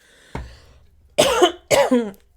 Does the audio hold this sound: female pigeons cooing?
no